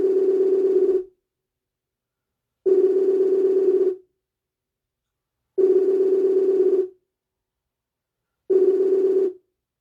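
A telephone ringback tone sounds four times, each steady buzzing tone lasting about a second and a half, separated by longer silences.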